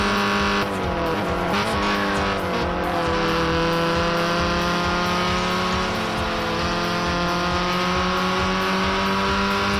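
Race cars in Gran Turismo 6 during a GTOR Cup Series round scream past in a steady, loud engine roar, pitch shifting as they run side by side, with brief tire squeal.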